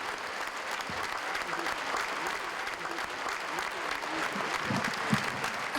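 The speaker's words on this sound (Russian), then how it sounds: "Встречайте ее аплодисментами, как подобает встречать гостей и родных людей." A concert crowd breaks into warm applause welcoming an actress at a jubilee concert, continuous thick clapping filling the hall with a few louder individual claps standing out near the end.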